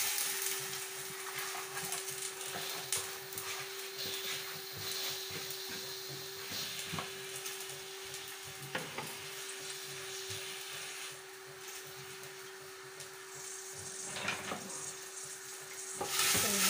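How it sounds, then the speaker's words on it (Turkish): Onions sautéing in a pan as the base for a large batch of Turkish beans with meat, a steady close sizzle with stirring scrapes running throughout, without speech. "Soğanlarım kavrulurken"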